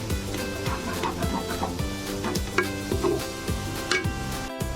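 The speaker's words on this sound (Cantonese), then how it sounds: "倒落個蒜味一齊爆香佢。 要不斷個燶攪拌" Garlic and shallots sizzle in a wok under constant stirring, a bright frying hiss broken by repeated squeaky metal scrapes of the spatula, close and busy.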